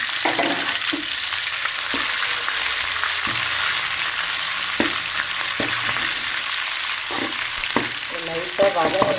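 Cinnamon and cloves frying in hot oil for a chicken gravy, a continuous close sizzle broken by occasional spoon stirs and clinks against the pan, with no voices.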